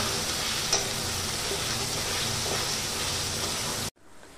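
Ginger and garlic paste sautéing with soybeans in a pan gives a steady, close sizzle with faint stirring scrapes, running evenly before cutting off abruptly near the end.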